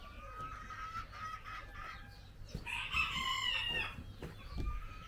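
Chickens cluck on a ranch while a rooster lets out a loud, drawn-out crow midway. The farmyard calls are fairly close, with no talking.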